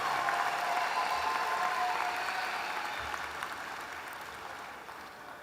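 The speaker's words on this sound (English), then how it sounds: "One more round of applause for the 2024 graduates of the Master of Science in Finance program." Commencement applause for 2024 Master of Science in Finance graduates at the Cox School of Business: a broad, sustained round of clapping from a large audience that gradually tapers off.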